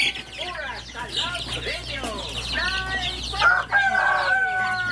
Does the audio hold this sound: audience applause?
no